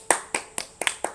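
Scattered hand claps in a classroom, about six sharp, separate claps in quick succession, close and fairly loud, with no one speaking.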